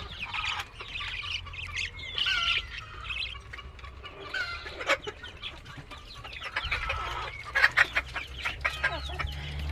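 A flock of young chicks clucks and squawks almost nonstop, close and fairly loud, with bursts of sharper calls growing denser toward the end over a low hum.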